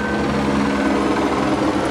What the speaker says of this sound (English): there's already a helicopter with a spotlight on